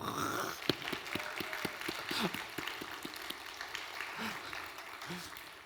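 Congregation in a church clapping for two ministry workers, a steady patter of many hands sustained throughout at moderate level, with voices murmuring beneath.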